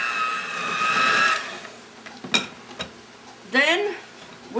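Butter and sugar for persimmon pudding beaten together, a steady whirring mixer at first that fades out, followed by a few bumps and clinks, with voices briefly heard.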